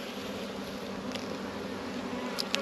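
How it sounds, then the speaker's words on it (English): Honey bees buzzing steadily at a hive in New Zealand, a dense continuous drone with occasional individual bees passing close by. "the bees are actually busy gathering and hooking out honey storage"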